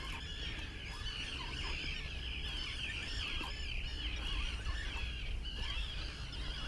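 Birds call repeatedly over a steady, noisy outdoor background on a flat calm, foggy morning in Falmouth, with chirps and clucking-like calls scattered throughout.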